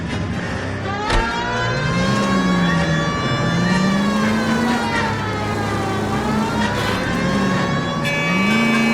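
Game car from L.A. Noire drives along with a steady, sustained engine drone rising and falling in pitch, under continuous musical tones, loud and close for the whole stretch with no talking.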